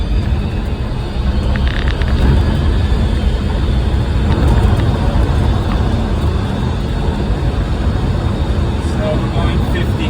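Electric Chevy truck cruising on the road and easing off under regenerative braking, a steady broad rumble of tire and road noise with wind, constant and loud throughout, no motor whine standing out.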